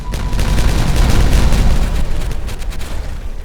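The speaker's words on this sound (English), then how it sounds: "Alright, let's blow this up. It's ready. Let's pause. We'll detonate it from a couple of corners here." Dynamite detonating in Timberborn, set off from several corners at once: a loud, rolling series of blasts and heavy booms that rumble for a few seconds, then trail off into crackling debris, with no talking.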